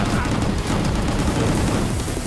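Gunfire in the action game Gungrave G.O.R.E rattles in a dense, continuous roar of shots and booms for a couple of seconds, loud and busy throughout.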